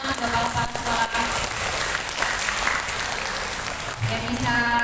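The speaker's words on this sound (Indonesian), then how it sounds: "Tepuk tangan untuk Bapak Kepala Sekolah." Applause for a school headmaster at an assembly, a dense crowd of hands clapping continuously, fairly loud with some murmuring voices mixed in.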